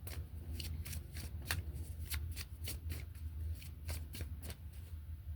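African Oracle cards are shuffled by hand in quick riffling bursts over a low steady hum, quiet and close, with no voice.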